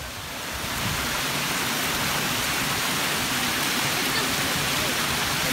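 Steady, broadband rush of water flowing in a stream, loud and continuous throughout with no breaks, masking any other sound nearby.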